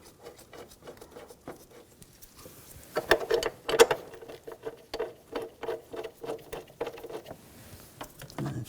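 Bolts being tightened on a BMW X5 3.0L L6 starter, a series of quick ratchet clicks in bursts, close and fairly quiet, with short pauses between strokes.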